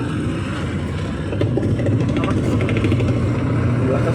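A clothes dryer runs after its capacitor was replaced, its motor starting up with a steady, fairly loud humming drone that strengthens partway through and carries on evenly.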